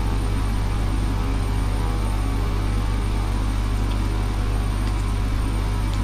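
A King Air propeller aircraft engine in the FSX flight simulator game, using the default sound pack, drones as a loud, constant, low-pitched hum with a steady propeller whine and no voices.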